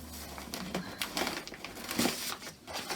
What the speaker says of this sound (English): I will undo the brown paper